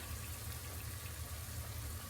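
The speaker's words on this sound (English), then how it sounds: "In goes the tomatoes." Jarred tomatoes are poured into a hot pan for spaghetti sauce, making a steady wet sizzling and gushing wash that holds at an even level from start to finish.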